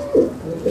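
A hobby flying pigeon gives two short, soft coos, one near the start and another at the end, close by with nothing else around them.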